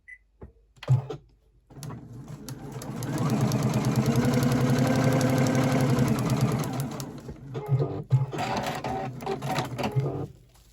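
A sewing machine quilting fabric, with a few start-up clicks before a long steady mechanical whir. It slows to a stop, followed by some clicks and clunks of the machine being handled. No one speaks.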